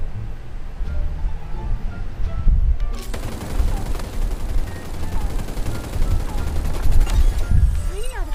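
Rapid bursts of video game gunfire in Super Mecha Champions crackle and boom repeatedly, a busy firefight with shots overlapping in quick succession.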